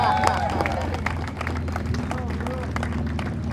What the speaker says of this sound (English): another round of applause for going to grab a drink